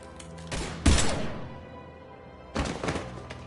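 Gunfire in the video game Mass Effect 3: two heavy, booming bursts about two seconds apart, each a short cluster of thudding impacts over a low rumble.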